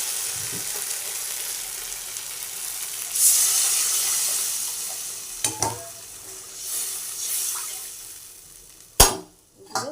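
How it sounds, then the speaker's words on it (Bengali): Water hits a pan of frying fish curry masala with a rush of hissing sizzle that swells and fades, followed by stirring clatter and a sharp utensil knock near the end, close and moderately loud. "এবার আমরা জল দিয়ে দেবো"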